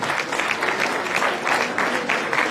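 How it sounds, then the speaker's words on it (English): Audience applause after a talk on values in spirituality: dense, steady clapping from a crowd, fairly loud and continuous throughout, with no voices over it. "Give them a big round of applause."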